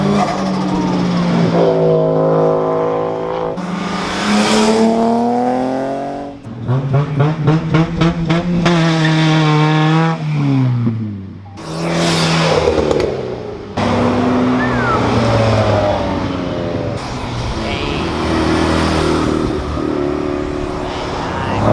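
Cars accelerating hard on takeoff at the Caffeine and Octane car meet, engines revving in rising and falling sweeps that roar loudly and fairly close, one burst after another with a rapid sputtering stretch in the middle and some voices in the crowd.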